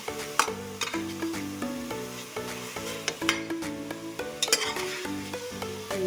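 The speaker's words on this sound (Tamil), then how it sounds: "இந்த டைம் தான் ஃபஸ்ட் டைம் நான் இந்த மாதிரி கொழுப்பு போட்டு உருக்குறேன்" Beef fat melting in a hot pan for beef biryani, crackling with a steady sizzle under repeated metallic stirring and scraping clinks, close and continuous with no talk.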